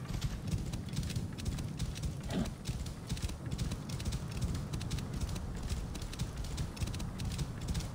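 Horse hooves clip-clopping steadily in Assassin's Creed Origins, a continuous even trotting rhythm, close and moderately loud, with no talk over it.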